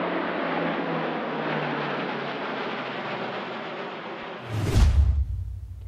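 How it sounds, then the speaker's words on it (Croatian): Planes of a French eight-aircraft aerobatic team flying overhead, a sustained loud roaring jet rush that holds steady, then a sudden blast of deep rumble near the end before it cuts off. "Akrobatska grupa iz Francuske leti u sastavu od 8 aviona"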